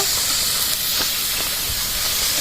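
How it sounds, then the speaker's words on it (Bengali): Onion paste hits hot oil already tempered with bay leaf, dried red chilli and cumin, producing a loud, steady hiss of sizzling that holds without a break from start to finish. "ফোড়নে পেঁয়াজ বাটা দিয়ে দেবো পেঁয়াজটা ভালোভাবে ভেজে নেব"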